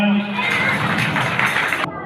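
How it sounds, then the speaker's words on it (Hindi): A crowd at a Ganesh festival event in Nilokheri breaks into loud applause and cheering for Prem Munjal, a dense, sustained roar that follows a voice at the start and stops abruptly near the end. "एक बार जोरदार तालियां"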